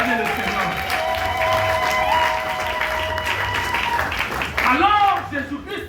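Congregation applauding the Lord during a French-language church sermon, a steady wash of clapping and cheering that carries throughout, with sung or spoken voices mixed over it and a swell near the end.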